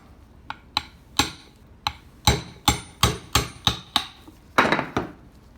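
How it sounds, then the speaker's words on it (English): Hammer blows struck while skinning an elk, about a dozen sharp, close knocks falling in an uneven rhythm, some in quick pairs, with no talking. "Get a hammer."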